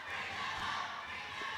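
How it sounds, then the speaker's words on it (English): A crowd chants and cheers at a women's netball varsity match, a dense, steady roar of many voices filling the hall without a break. "The crowd chanting to bring them on here."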